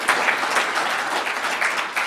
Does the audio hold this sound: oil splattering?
no